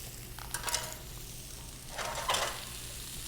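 Diced peppers, onion and ham warming in butter in a pan give a soft, low sizzle, with two brief bursts of stirring or scraping against the pan.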